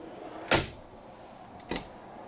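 Cabinet drawers in a 2022 ATC Game Changer Pro 2419 toy hauler travel trailer, heard as two quick wooden knocks of a drawer shutting, the first sharper, the second softer about a second later, in a quiet interior.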